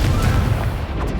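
A Confringo blasting spell erupts in Hogwarts Legacy as one loud, deep, rumbling explosion, close and sustained across the whole moment.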